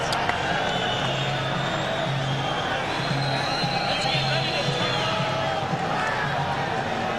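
A boxing crowd at an Angel Hernandez vs Leonard Townsend fight fills an arena with a dense, continuous murmur of voices and scattered faint shouts and calls, heard at a distance.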